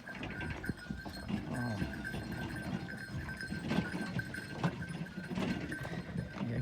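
Sheep on a Ukrainian smallholding that also keeps draft horses give faint bleats, with a short low call standing out early. Scattered rustling, shuffling and farmyard movement run underneath, and everything sounds quiet and somewhat distant.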